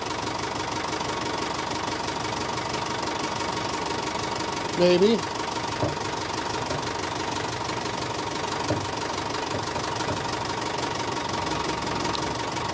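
A 1974 Mercedes O309 with an OM314 diesel engine idles with a steady knocking clatter, loud and close, with a brief louder burst partway through and someone speaking over it.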